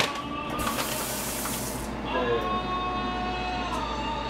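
Water runs and splashes steadily into a container of pancake mix nearby, a continuous rushing pour with faint background noise.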